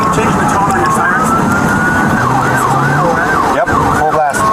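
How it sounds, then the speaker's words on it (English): A loud, close police emergency siren holds a steady wail, then switches to a faster warbling yelp. "Change the tone on your sirens."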